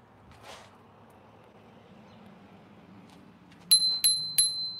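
Three bright bell rings from a bicycle bell on a new custom e-bike, struck in quick succession near the end, loud and close over a quiet background.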